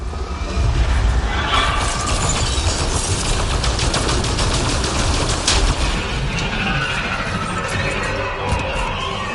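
Gunfire in the video game Mass Effect Andromeda, a loud sustained burst of rapid automatic shots with mechanical clatter and crashes, no speech.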